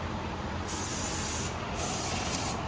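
Brake cleaner sprayed onto the front brake parts of a 2020 Jeep Renegade: two long, loud hissing bursts, each lasting close to a second, with the start of a third at the end.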